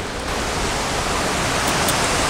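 Cascade du Saut du Loup waterfall gives off a steady, dense rushing roar of falling water, constant and fairly loud throughout, with no voices over it.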